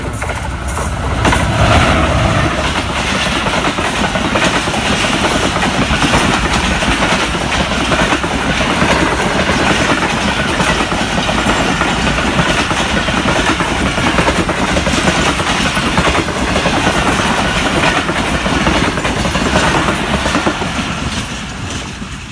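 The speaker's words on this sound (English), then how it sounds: "right now one train is coming from Punjab to going to Karachi" Passenger train bound from Punjab to Karachi rushing past on a Pakistani railway track, a loud, close, continuous roar of wheels and carriages with rhythmic clickety-clack throughout, fading a little at the very end.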